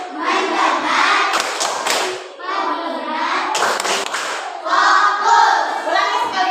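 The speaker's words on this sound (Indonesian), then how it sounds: "Tepuk fokus dulu, biar fokus" A class of schoolchildren performs a rhythmic focus clapping chant, with bursts of sharp group claps and thumps alternating with loud chanted children's voices, close and lively throughout.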